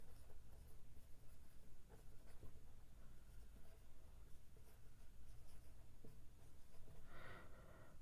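A pen or pencil scratches out a math answer on paper, faint close-up scribbling strokes in quick irregular bursts against a quiet room.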